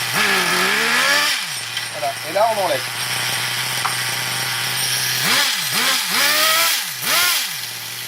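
A small high-pitched nitro engine in a T2M Clio series 5000 RC car buzzes steadily, with several quick throttle blips that rise and fall in pitch. Someone speaks briefly over it.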